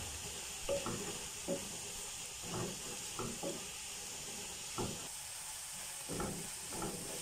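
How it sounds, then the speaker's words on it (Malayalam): Crushed garlic, ginger, curry leaves and green chilli sizzle softly in a pan, while a spoon stirs them in a string of short, evenly spaced scraping strokes, fairly quiet and with no talking. "ഇനി ഇതിലോട്ടേക്ക് ക്രഷ് ചെയ്ത് വെച്ചിരിക്കുന്ന വെളുത്തുള്ളിയും ഇഞ്ചിയും കറിവേപ്പിലയും പച്ചമുളകും ഇട്ട് കൊടുക്കാം നന്നായിട്ട് ഇളക്കി കൊടുക്കാം"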